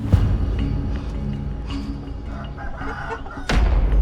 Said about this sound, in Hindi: ये मुर्गियां पाली हुई है ना, इनकी आवाज थी